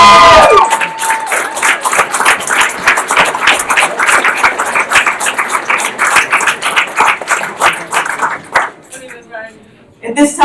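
An audience at a hall of fame ceremony for a 2001-02 men's basketball team breaks into loud, sustained applause that fills the room steadily, then tapers off with a few scattered claps near the end.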